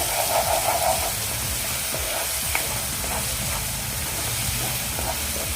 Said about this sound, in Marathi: गॅसची फ्लेम आहे कांदा आपल्याला थोडंसं एक दोन मिनटं फक्त परतायचं आहे